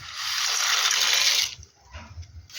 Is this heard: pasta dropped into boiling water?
yes